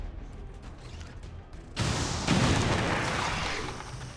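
Rocket explosions in the XCOM 2 video game arrive as a sudden heavy burst of noise that swells into a broad, sustained roar and rumble, close and loud, before easing off.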